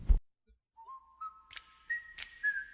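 A lone whistler holds a steady melodic line of long sustained notes, clear and close, with a few breathy accents and no talking.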